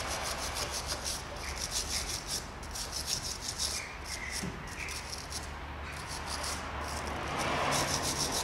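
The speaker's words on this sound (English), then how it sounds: "I'm going to get the wire brush on it. I'm going to clean it" Wire brush scrubbed hard against a rusty bolt on a car's shock absorber top mount, a steady, close, continuous rasping rub lasting the whole stretch with no one talking.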